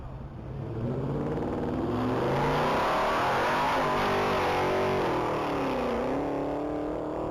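Race car number 91 at a standing-mile top-speed event in Texas, its engine roaring loud and close in one continuous, sustained pull with a rising, wavering pitch as it accelerates hard.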